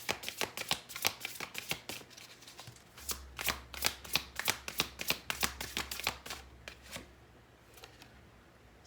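Tarot cards being shuffled by hand in a rapid run of crisp riffling snaps, fairly quiet and close, with a low steady hum underneath and no talk.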